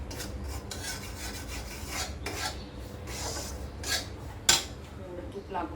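Semolina roasting in ghee in a pan is stirred continuously, giving a steady dry scraping rasp with rhythmic strokes and a sharper metallic scrape near the end; no talking.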